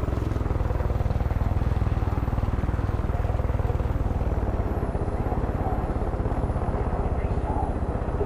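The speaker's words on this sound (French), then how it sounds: "l'hélicoptère c'est quand même formidable" Helicopter in the video game Far Cry 5, a steady close rotor thrum with rapid even chopping that holds through the whole stretch.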